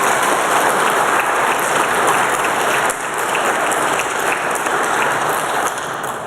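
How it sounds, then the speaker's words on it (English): Large graduation ceremony audience applauding, dense sustained clapping filling the whole stretch at a steady loud level. "I just want to request that we give our graduates another round of applause"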